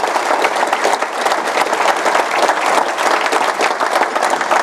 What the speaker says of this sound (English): I just want to ask for one quick round of applause